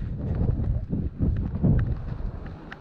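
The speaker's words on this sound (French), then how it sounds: "Donc forcément le vent s'engouffre dans ce couloir." Tramontane wind funnels through the mountain corridor between the Massif Central and the Pyrenees, buffeting the microphone in heavy, uneven low gusts that rise and fall.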